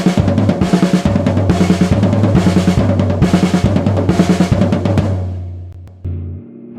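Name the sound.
snare and floor tom drum exercise played fast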